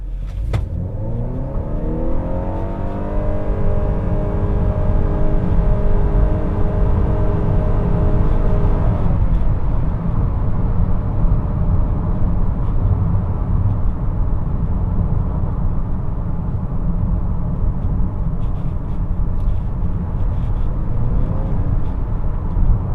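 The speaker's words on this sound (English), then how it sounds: "flooring it like that and you just have a hum, a constant hum" Steady, droning engine hum from a 2022 Honda Accord Hybrid at full throttle, rising in pitch over the first few seconds and then holding a constant, loud, gearless drone with road noise beneath, no voices.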